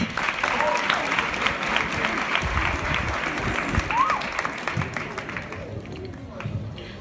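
Applause from a crowd gathered for a presidential visit to a secondary school, steady clapping with some background babble throughout, easing slightly toward the end.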